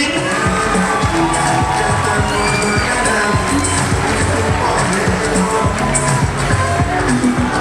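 A large crowd at a Nigerian honoring event, packed and loud, keeps up a steady wash of clapping, cheering and whoops. Shouts rise over it and some speech-like voices blend into the noise.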